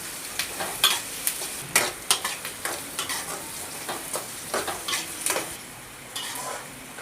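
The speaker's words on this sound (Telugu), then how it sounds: "ఇప్పుడు కరివేపాకు వేసుకున్నాము. లైట్ గోల్డెన్ కలర్ వచ్చేంత వరకు అయితే వేయించుకోవాలి." Curry leaves fry in a pan with a close, steady sizzle, punctuated by rapid sharp crackles and spatula scrapes in an uneven rhythm; fairly loud and alone, with no voices.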